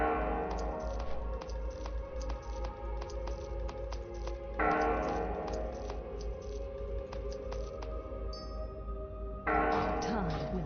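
Church bells toll in World of Warcraft Classic, repeated metallic strikes ringing out in a slow steady rhythm over a low background hum, fairly loud with no talk over them.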